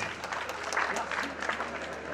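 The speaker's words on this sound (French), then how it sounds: "Les applaudissements pour Johan Lebon" Applause from an audience at a 2012 cycling team presentation, a steady wash of clapping for a rider, moderately close and continuous throughout.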